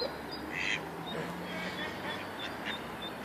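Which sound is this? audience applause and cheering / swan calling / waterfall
swan calling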